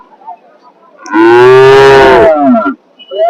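A cow lets out one long, loud moo close by at a cattle market, starting and fading within about a second and a half, amid faint background noise.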